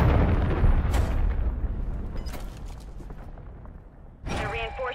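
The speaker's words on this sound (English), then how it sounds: "Friendly cruise missile deployed." Cruise missile strike in Call of Duty MW3: a heavy, rumbling explosion fades out over several seconds, with sharp crackling gunshots scattered through it and another loud blast near the end.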